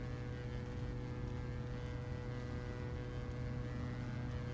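A twin-engine Diamond DA42 roars at full throttle on its takeoff roll in the X-Plane 12 flight simulator. The drone is loud, steady and even, with nobody talking over it.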